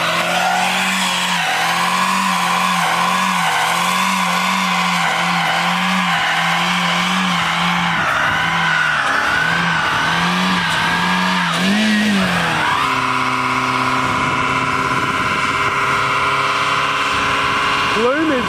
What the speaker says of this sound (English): Another burnout. Send it.